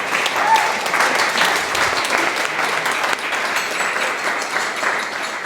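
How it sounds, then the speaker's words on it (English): A crowd applauds steadily for several seconds, a dense wash of clapping at moderate loudness with no talking over it. "if we could have a round of applause for her"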